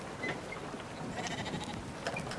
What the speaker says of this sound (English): Now is not the time to be petting sheep.